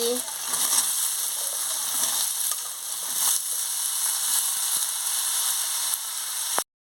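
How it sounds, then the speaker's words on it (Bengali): Mixed vegetables fry in a pan with ginger paste, producing a steady, close sizzle and hiss with a few light knocks before it cuts off abruptly. "ভাজা হয়ে গেছে আমি সব সবজিগুলোকে দিয়ে দিচ্ছি"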